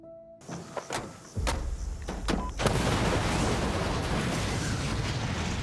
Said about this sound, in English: With a deafening explosion, the Special Forces team disappears in the blast.